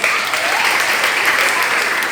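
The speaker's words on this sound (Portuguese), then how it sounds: "Palmas para os nossos heróis" Dense, loud applause from an audience in a classroom-style talk, cheering on two volunteers, a continuous wash of many hands clapping with no break.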